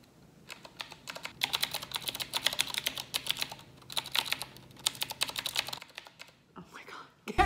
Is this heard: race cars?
no